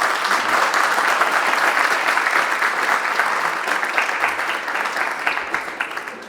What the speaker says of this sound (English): give a round of applause for Tzipi